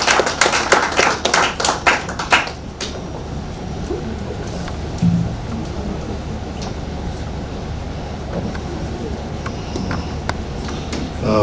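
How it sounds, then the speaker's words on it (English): An audience claps for a speaker being welcomed at an evening event in the FCT, a loud burst of applause for the first three seconds that quickly thins and fades into room noise. "can we clap for Upland?"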